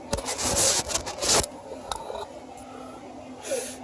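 A pick scrapes and rubs against metal inside the engine of a 2015 Jeep Wrangler 3.6L during intake manifold removal, in a burst of close, gritty strokes. Quieter scratches follow, then one last short scrape.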